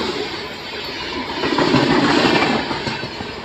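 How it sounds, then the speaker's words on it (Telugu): The Godavari Superfast Express (Secunderabad–Visakhapatnam) rolls past near Pagidipalli cabin, a steady loud rumble of wheels and carriages swelling midway, with no voices. "అది క్యూన్ Godavari super fast express Secunderabad Visakhapatnam Godavari super fast express"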